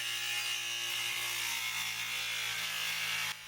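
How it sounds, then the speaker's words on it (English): An angle grinder cutting up a metal bed frame, a constant high, harsh whine that stays loud and steady before stopping abruptly at the end. "now I'll flip it over and screw on some bed frame after I cut it up with my angle grinder."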